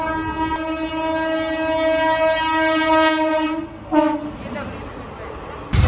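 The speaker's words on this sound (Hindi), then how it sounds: "अब एक ट्रेन और आ रही है" A train sounds a long, loud horn blast at a railway level crossing, then the horn cuts off and the rumble and clatter of the passing train follow.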